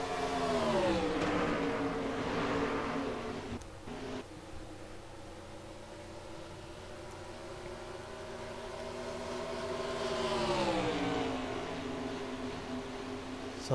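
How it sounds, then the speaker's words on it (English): Stock cars from a racing video game's Goodyear National Series event at Texas drone past as slower traffic, a faint engine whine swelling and fading with a brief dip midway, no voices. "we can hear some of the slower traffic"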